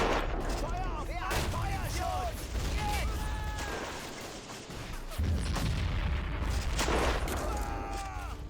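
Grenade explosions and rifle fire in the World War I video game Battle of Empires 1914-1918, with repeated booms and scattered shots over a busy battlefield din, and voices calling out in between.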